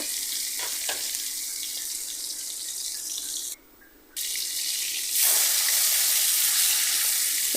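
Rohu fish pieces fry in hot oil in a wok, a steady loud hissing sizzle that briefly cuts out and then returns stronger, with no voices.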